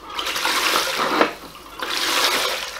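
Running water pours and splashes steadily over fossil nautiloids, ammonites, brachiopods and belemnites being washed, fairly close, with a brief dip in the flow midway before it picks up again.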